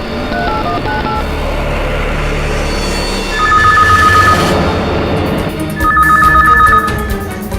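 Two bursts of steady two-tone electronic beeping rise over a dense rumble of music, each lasting about a second, like a phone being dialed.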